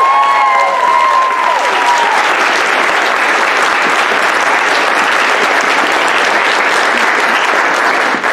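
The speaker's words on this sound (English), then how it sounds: "Round of applause for Dr. Chisholm." Steady, loud applause from a seated audience follows a lecture at a choir recital event, dense clapping that holds evenly throughout with a brief voice fading out near the start.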